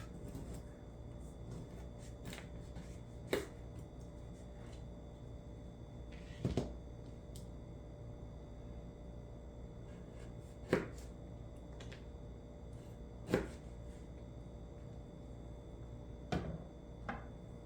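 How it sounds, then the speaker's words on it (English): A knife cuts into a very hard, rotten orange, giving a handful of sharp isolated cracks and thunks a few seconds apart over a quiet background, with no talking. "moving on to a hard rotten orange, very hard. I'm gonna go ahead and cut it in half."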